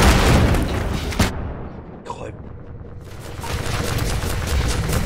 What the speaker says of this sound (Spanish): Ese disparo estará scripteado, por cierto.